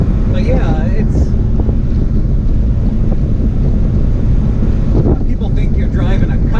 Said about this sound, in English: I'm going 50, and it's windy, and I have my windows down.